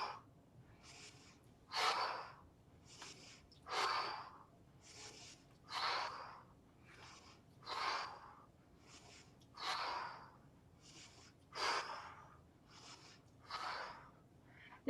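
Rhythmic mouth exhales during a qigong breathing exercise for low back pain, about eight breathy puffs repeating roughly every two seconds, close and moderately loud with no talking.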